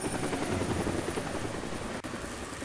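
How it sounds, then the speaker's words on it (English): A helicopter in the video game Deadlight, a loud, continuous rotor chop with rapid pulsing beats that runs steadily and cuts out briefly near the end, with no talk over it. "That's the helicopter chasing my friends."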